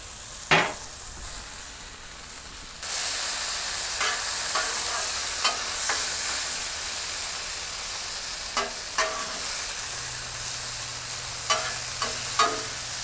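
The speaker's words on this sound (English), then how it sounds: "that cook for a minute, and then I'll go ahead and flip it and stir it up a little better. Get a little more oil on it." Alligator meat frying in oil, a constant loud sizzle that swells as more oil goes in, with scattered scraping clicks of a utensil flipping and stirring the pieces in the pan.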